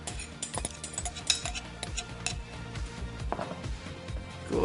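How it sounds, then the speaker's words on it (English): A fork stirring couscous mixed with tomatoes, onion and lemon in a bowl, a busy stream of light scraping and tapping at close range with no voices. "Couscous has to be stirred with a fork, not a spoon"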